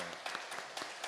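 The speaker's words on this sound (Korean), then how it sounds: "우리 하나님 앞에 영광의 박수 올려드리겠습니다." Congregation applause during a church worship service, a quiet, distant patter of many hands clapping with no voices on top.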